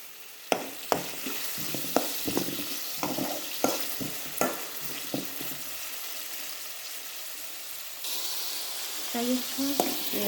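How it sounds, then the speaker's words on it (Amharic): Onions and carrots frying in a pan over a charcoal stove, with a steady sizzle broken by sharp clinks of a stirring utensil, then quieter sizzling in the last few seconds. "እንደዚህ ሽንኩርቱ ጋራ ካሮት እንጠብሳለሁኝ"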